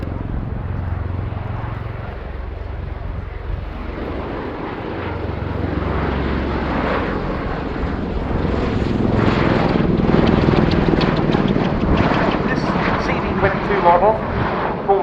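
A military aircraft flies overhead at the RIAT airshow, its engine roar swelling from a low rumble to a louder, fuller drone while a commentator talks throughout.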